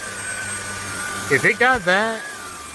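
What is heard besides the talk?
Trucozie cordless stick vacuum cleaner sucking up debris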